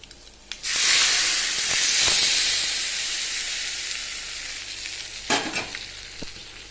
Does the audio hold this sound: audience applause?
no